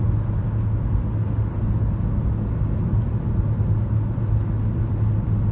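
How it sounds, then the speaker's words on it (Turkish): An automatic Ford Focus with a 1.5 Ti-VCT engine slows downhill under engine braking, giving a steady, even low rumble with road noise inside the cabin and no talking. "Bayır aşağı iniyoruz. Direkt motor freniyle aracı yavaşlatıyor."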